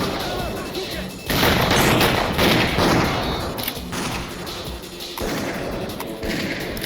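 A grenade blast in the shooter game S.T.A.L.K.E.R.: Clear Sky, heard as a sudden loud thump and crash at about 1.3 seconds, followed by a rumbling tail mixed with gunfire and other combat noise.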